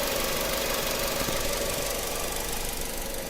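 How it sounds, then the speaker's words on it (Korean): A Renault Samsung SM5 LPG sedan engine idles with the hood open, heard up close as a steady, even hum with a faint rhythmic ticking, running smoothly and alone without talk. "엔진 지금 굉장히 정숙하고 조용하게 잘 돌아가고 있다고 여러분들께서 보시면 되고요."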